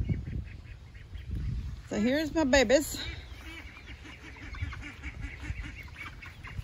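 Pet ducks giving a short burst of loud nasal quacks near a pen with dirty water, heard over someone talking and outdoor background noise.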